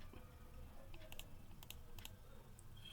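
Keystrokes on a computer keyboard running Ubuntu or Mint: a faint, scattered run of light clicks in small clusters over a quiet room hum, with no voices.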